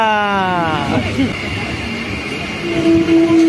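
Howrah–Ranchi Intercity Superfast Express running between Tata and Purulia, a loud rumble of wagons on the rails with a rising and falling horn-like tone and a steady whine toward the end.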